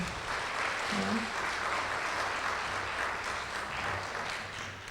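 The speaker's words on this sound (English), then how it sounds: "I would love to have you give a round of applause to Tom Greaves of the NetSchools Corporation" A crowd at a school parent meeting claps steadily for several seconds, a dense, even wash of applause that fades slightly toward the end.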